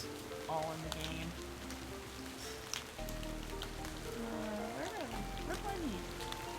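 Steady rain patters from the game Bejeweled 3, a soft continuous hiss of drops on a surface, overlaid with sliding chime-like game tones and swooping effects; a voice talks faintly beneath.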